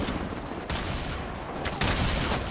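Gunfire bursts in the video game Fortnite, a shotgun among them, sounding as loud, dense broadband blasts that hit sharply near the start, around the middle and again toward the end, with a rattling, continuous character between them.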